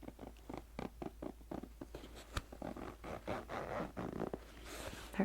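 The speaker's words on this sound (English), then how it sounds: "let me also unzip this upper pocket. Upper, outer pocket. And let's see how this zipper sounds." Outer pocket zipper on a backpack is pulled open in a run of short, quiet rasping strokes up close, with soft handling rustle afterward.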